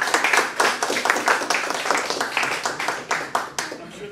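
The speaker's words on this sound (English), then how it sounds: "I'm sure that applause is for the eloquent introduction." An audience claps after a speaker's introduction at a Duke lecture. The applause is moderate and scattered, with distinct individual claps that thin out over about four seconds.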